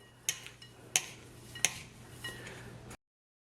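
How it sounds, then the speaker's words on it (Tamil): A spoon scrapes and clinks a few times in a bowl while sesame sweet ingredients for ellu paa are mixed. It is quiet and close, with three sharper taps among softer stirring. "இப்போ இதை நல்லா மிக்ஸ் பண்ணி விடுங்க."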